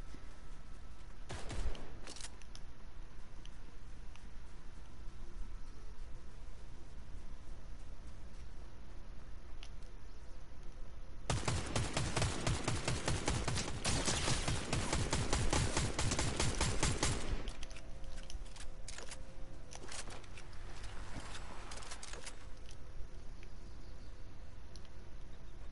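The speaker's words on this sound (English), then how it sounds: "Ooh, they're shooting" Gunfire in the Fortnite video game: a brief burst early on, then a long dense stretch of rapid automatic shots lasting several seconds, with fainter scattered pops afterward over a quiet game background.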